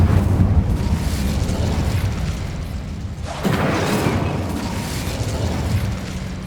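An Incendio fire spell cast in Hogwarts Legacy on PS5, a loud roaring whoosh of flame that swells midway and keeps rumbling steadily.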